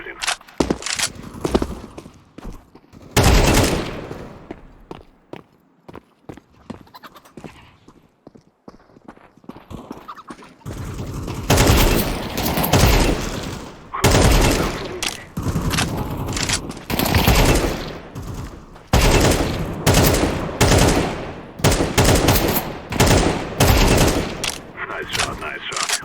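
Gunfire in the video game Counter-Strike 2, loud bursts of rapid shots and single cracks repeating through the stretch, with a quieter lull partway and a voice speaking over the action.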